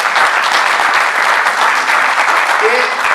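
Loud, sustained applause from a crowd in a hall during a candidates' presentation, dense and even clapping throughout, with faint voices underneath.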